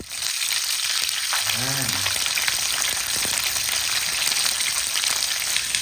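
Oil sizzles and crackles steadily as chicken wings fry in a pan, with a brief spoken word near the start.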